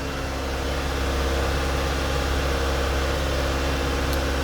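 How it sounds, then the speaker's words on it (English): 1987 Honda CRX DX engine idling with the choke valve pushed in, a steady, close, low mechanical drone with an even pulsing rhythm and no talking. "When you put the choke valve in, it slows the engine down a little bit."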